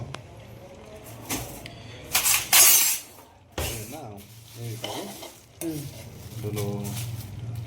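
Coriander seeds and nine green chillies roast and sizzle in a pan over a low flame, with steady stirring scrapes and several louder clattering bursts of the spoon against the pan, while a person talks intermittently.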